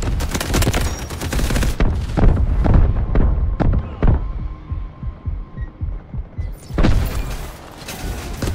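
Heavy artillery barrage in the shooter Delta Force: a rapid series of loud, booming impacts and rumbling blasts pounding close by, thinning into scattered thuds before another burst erupts.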